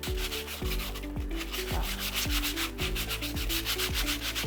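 Steady rhythmic rasping of sandpaper rubbed back and forth on scrap wood, repeated strokes at a brisk even pace, close by with no talking.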